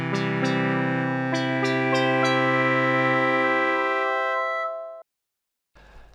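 A sustained eight-voice chord from a digital synthesizer rings out loud and steady, its notes entering in quick succession before the whole chord is released and fades away, followed by a brief faint noise.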